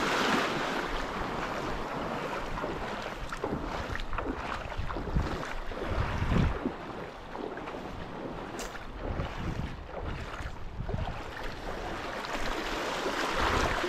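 Sea waves crash and wash against a rocky shore amid strong wind buffeting the microphone, a loud continuous roar with surging bursts and no talking.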